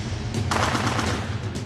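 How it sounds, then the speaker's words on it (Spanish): A rapid volley of gunshots rings out near a presidential palace, a dense burst of cracks in quick succession at moderate distance. "empiezan a sonar disparos cerca del Palacio Presidencial"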